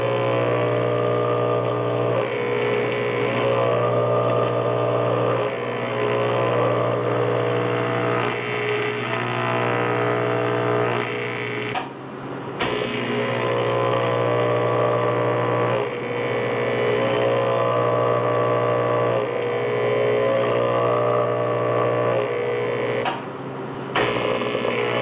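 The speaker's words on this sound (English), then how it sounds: "TIG welding is not for filling gaps." TIG welding fills a gap on intercooler piping, a steady buzzing electrical hum with a constant tonal drone that carries on for long stretches, broken by two short pauses where the arc stops before restarting.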